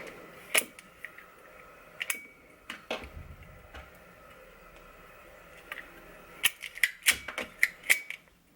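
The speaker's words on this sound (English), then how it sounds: "Then I'll continue to do it till the rivet pops." A riveting tool sets pop rivets, giving a series of sharp snapping clicks, a few sparse ones early and then a rapid cluster of pops near the end, close and crisp over a quiet background.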